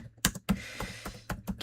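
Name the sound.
keyboard mashing, typing on a computer keyboard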